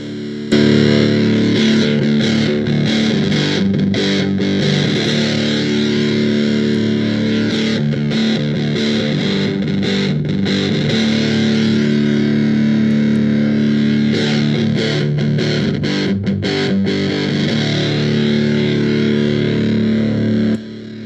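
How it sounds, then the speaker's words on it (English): Loud, heavily distorted electric guitar through a Pi-Rat distortion pedal modded with no clipping diodes, playing sustained chords and riffs continuously, thick and saturated with no voices. "we're going to go to no clipping diodes, and that's a lot louder"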